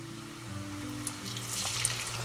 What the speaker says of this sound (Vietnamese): Thử đũa thấy dầu sôi thì mình cho từng miếng gà vào chiên.